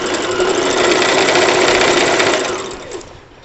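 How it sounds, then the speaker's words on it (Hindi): A sewing machine stitching the sleeve onto a kurti, running in a loud, fast, steady whirr for a few seconds before slowing and trailing off. "इस तरह से सिलाई लगाएंगे हम मुट्ठे पे, बाजू जोड़ेंगे।"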